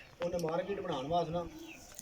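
Soft, low cooing of Sialkoti pigeons with red markings, a short series of throaty warbling notes heard up close in quiet surroundings.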